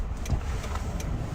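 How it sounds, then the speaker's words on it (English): Bus passing on a roadside, heard from a broken-down car: a brief steady engine and tyre rumble, moderately close, with no talking. "That's a bus."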